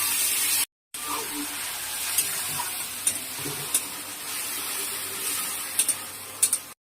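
Ginger-garlic paste and ground cumin frying with a splash of water in a pan for Bengali duck egg curry, giving a steady, close hiss broken by sharp crackles and pops, after a brief silent break near the start.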